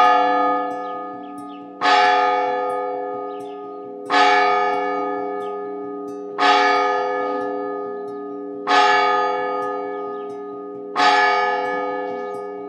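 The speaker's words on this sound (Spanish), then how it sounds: "¿Son campanas de alegría o de duelo?" A church bell tolls five slow, evenly spaced strokes, each ringing out and decaying into a long humming resonance before the next.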